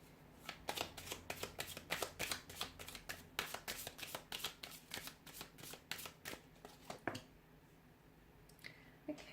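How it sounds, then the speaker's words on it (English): Rapid riffling of a card deck, a dense run of crisp flutters repeating for several seconds, then a final tap and quiet. "let's shuffle the cards and see"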